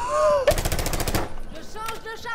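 A single gunshot cracks in Rainbow Six Siege, followed by a short rapid burst of fire that fades into quieter game sounds, with faint voices around it.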